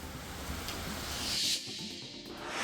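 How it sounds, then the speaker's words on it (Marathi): Heavy monsoon rain pours down in Yavatmal after a 20-day dry spell, a steady dense hiss that fills the whole stretch and swells slightly near the middle and end, with no voices. "यवतमाळमध्ये 20 दिवसानंतर पावसाची दमदार हजेरी."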